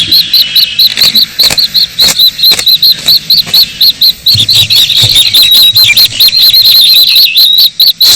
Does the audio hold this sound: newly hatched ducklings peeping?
yes